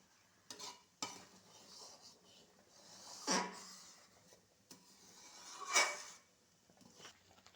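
Homemade tomato sauce thickening in a pot is stirred with a spoon, producing a handful of separate scraping strokes against the bottom, fairly quiet and close with soft gaps between them.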